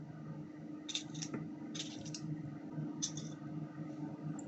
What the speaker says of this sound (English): We're going to dice it up, our cucumber.